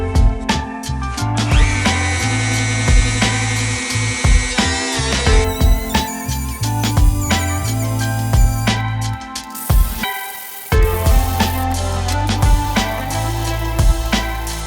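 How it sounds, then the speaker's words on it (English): A Dremel rotary tool mounted in a table stand cleaning up handmade file knife parts: a loud, steady high whine with shifting pitch as metal is pressed against it, briefly dropping out near the middle, with no talk. "I've got my Dremel on the table thingy,"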